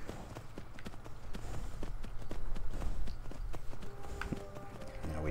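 A horse trots along in Skyrim, its steady clip-clop hoofbeats running throughout over a low background bed of game ambience and music.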